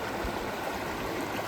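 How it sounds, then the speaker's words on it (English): Water flows steadily over a rock in a stream at a state park, giving a continuous close rush of babbling and gurgling with no voices. "I'm looking at this rock right here and the water running over this rock."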